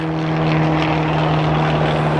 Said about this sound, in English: see that airplane up there?